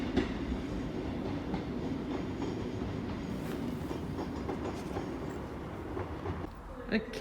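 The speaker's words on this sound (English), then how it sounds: "Oh, that looks like a Northern. That's a Northern 158." Northern class 158 diesel train approaching a station on the West Coast Main Line at Carlisle in mist: a continuous low rumble and rail clatter building steadily, with faint speech nearby and a few clicks near the end.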